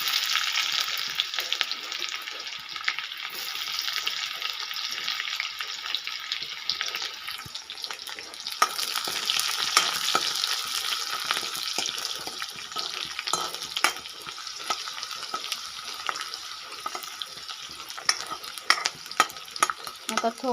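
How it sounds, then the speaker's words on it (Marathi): Onion and garlic sizzle steadily in a pan while a spoon stirs and scrapes through them, a continuous bright frying hiss with irregular clicks of stirring, close and fairly loud, no talking. "मस्त आपण त्यामध्ये कांदा टाकून घेणार आहे"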